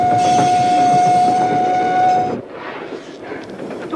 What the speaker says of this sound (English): Nothing much is going to happen on a moving train.